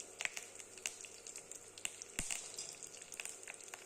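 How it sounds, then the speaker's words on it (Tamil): Mustard seeds splutter and pop in hot oil over a low flame, small scattered crackles over a soft, steady sizzle, close and fairly quiet with no talking. "லோ ஃப்ளேமில் வச்சு கடுகு அது பொரிய ஆரம்பிச்சதுக்கப்புறம் கருவேப்பிலை, பச்சை மிளகாய், ஒரு 2 பல்லு தட்டி வச்ச பூண்டு"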